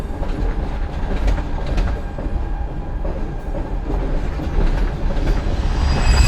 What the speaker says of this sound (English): With no advance warning, this train leaves the station.